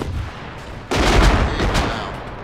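Loud explosions and gunfire in the military video game Arma, with a sudden heavy blast about a second in followed by dense, rumbling bursts of fire and booming echoes.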